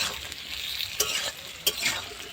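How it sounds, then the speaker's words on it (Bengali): Potatoes and onions fry together in a pan, giving a soft continuous sizzle with a couple of sharp stirring scrapes, quiet and close with no voices. "এবার আলু আর পেঁয়াজটা একসাথে ভালো করে একটু ভেজে নেব"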